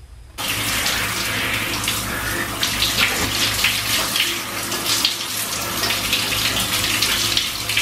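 Water pours steadily from a tap into a basin, a continuous close splashing gush that starts abruptly and runs without a break to the end.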